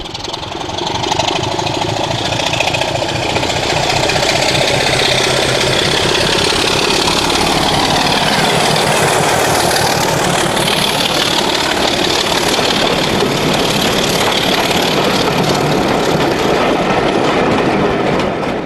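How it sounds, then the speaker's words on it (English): Diesel locomotive D5054 in Somerset pulls away with a loud, sustained engine roar, rising and falling in pitch as the train moves off, with steady rail rumble and clatter throughout. "D5054 in proper colours, departing from Somerset in July 2008."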